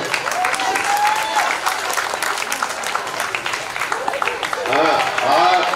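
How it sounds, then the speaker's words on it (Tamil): An audience at an owners' association annual general meeting applauds for Natchathra, a steady, dense wash of clapping that swells again near the end, with voices talking over it. "நட்சத்திராவுக்கு நல்ல பலமாக கைத்தட்டு கொடுங்க"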